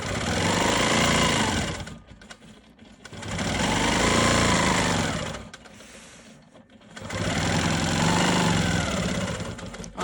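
A sewing machine quilts pebble shapes into an economy quilt block, running in three long, steady mechanical bursts with short pauses between them, close and alone with no talking.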